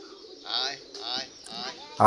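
Several soft, throaty pigeon coos repeat in slow pulses, close and fairly quiet against a still background.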